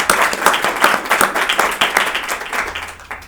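Applause from an audience at the close of a conference panel session, continuous crowd clapping with a lively rhythm that gradually softens toward the end.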